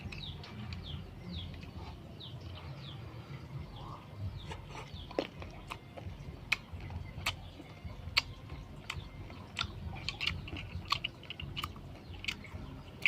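Someone eating sour mango, with moist crunchy chewing and sharp little bites repeating irregularly over a low background rumble, close and quiet, no speech.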